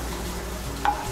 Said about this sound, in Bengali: ফোড়নটা দিয়ে একটু নাড়াচাড়া করে নেব।